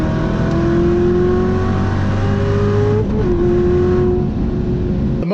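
A Porsche GT3 RS runs hard down a drag strip, its engine a loud sustained wail that climbs through the gears, with a brief dip at a shift partway through.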